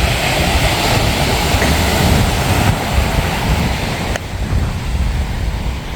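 Atlantic Ocean surf breaks steadily along a Florida beach, a continuous loud wash of waves mixed with heavy wind buffeting the microphone.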